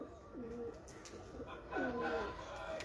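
Pigeons cooing in a loft, soft repeated low coos rising and falling at a moderate distance over steady background noise.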